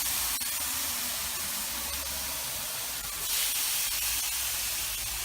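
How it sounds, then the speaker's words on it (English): Steaks cook in a marinade bag on a charcoal grill with a steady, broad hissing sizzle that runs on without a break for several seconds, close and fairly quiet, with no voices. "That sizzle is just perfect."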